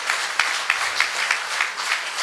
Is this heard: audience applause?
yes